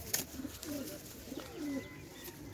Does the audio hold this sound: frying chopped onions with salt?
no